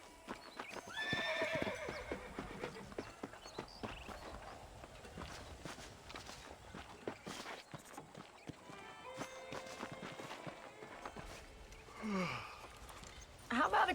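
Horse hooves clip-clop at a walk with a loud whinny near the start and another near the end, from a Red Dead Redemption gameplay scene, with brief speech and ambient game sounds around them.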